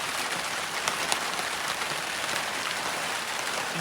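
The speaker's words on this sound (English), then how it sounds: "The rain is part of it." Steady morning rain falls continuously during a rainstorm, a dense, even hiss of drops striking surfaces nearby on a vehicle bug-out drill, with scattered louder drips and no speech.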